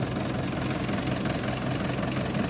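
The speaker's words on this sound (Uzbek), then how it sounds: "Traktorga keladigan bo'lsa, xudo xolasa yaxshi zo'r ishlab turibdi." A tractor engine runs steadily, fitted with an added attachment and in good working order, a continuous mid-low chugging drone with a slight knocking pulse, close and alone.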